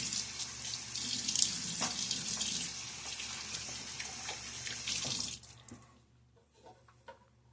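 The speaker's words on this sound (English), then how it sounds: "A splash of water." Water runs from a bathroom tap to wet a shaving brush, a steady close hissing stream for about five seconds before shutting off, followed by faint drips and quiet handling.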